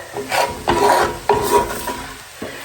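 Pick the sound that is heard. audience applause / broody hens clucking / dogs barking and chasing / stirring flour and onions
stirring flour and onions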